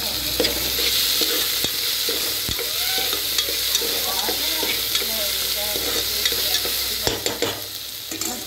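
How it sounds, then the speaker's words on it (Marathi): Tomatoes sizzle loudly in a hot pan, with a dense continuous frying hiss and repeated clacks of a spatula stirring them, close up and without talk. "टोमॅटो परतून घ्या"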